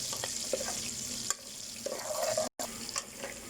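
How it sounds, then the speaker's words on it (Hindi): Green chilies, ginger and spices frying in a pan for maash daal: a continuous close sizzle with scraping stir strokes and occasional clinks, briefly cut by a short gap of silence. "बस इनको भी अच्छी तरह हम फ्राई कर लेंगे कि इनकी अच्छी तरह खुशबू आ जाए"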